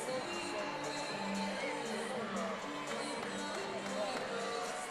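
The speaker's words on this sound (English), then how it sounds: "the crowd is actually on their feet cheering for Caitlin, trying to motivate her to get through the rest of this routine" A gymnastics meet crowd at Maryland at Ohio State, on its feet cheering for a gymnast mid-routine, a sustained distant roar of voices filling the arena under faint commentary.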